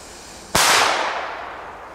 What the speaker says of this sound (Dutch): Dat klinkt zo, dat is een rotje.